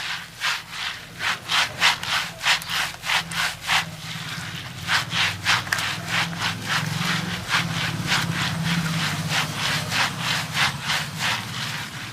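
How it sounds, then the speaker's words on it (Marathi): Urad dal is rubbed by hand while being washed in water, producing a close, steady series of rhythmic gritty scrubbing strokes, roughly two per second, with a soft watery swish beneath and no talk. "परत एकदा एक दोन वेळा घासायची अशी उडदाच्या डाळीला उशीर लागतो थोडा"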